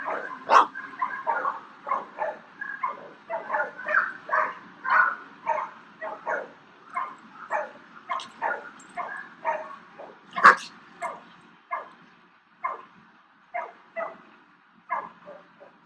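A dog gives a steady run of short, sharp barks and yips, mixed with a few higher whimpering sounds, fairly close and fairly loud.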